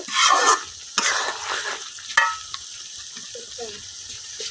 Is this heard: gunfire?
no